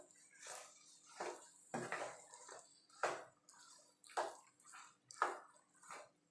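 Cheese being stirred into mac and cheese in a pot, giving a series of wet squishing, scraping strokes about once a second, close and moderately loud with brief pauses between.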